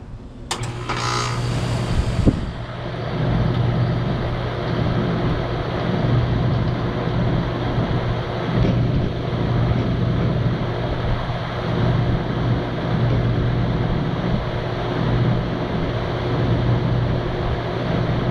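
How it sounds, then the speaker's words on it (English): A 2012 Bryant Legacy Line air conditioner starts with a brief clatter, then settles into a steady loud hum and drone of the compressor and fan that runs continuously. "Let's fire this thing back up."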